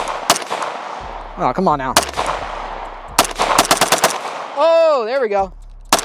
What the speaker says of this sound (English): We're gonna try to bump fire this thing Sicario style.